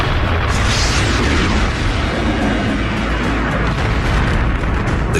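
Rumbling booms of space impacts during the Late Heavy Bombardment, a dense, loud, continuous roar of layered explosions with no pause, thick low-end thunder filling the whole stretch.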